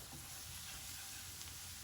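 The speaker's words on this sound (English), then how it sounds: "let it cook until the flour and the butter gets a little brown" Flour and butter roux cooking in a pan, a soft continuous sizzle and hiss, faint and steady throughout without speech.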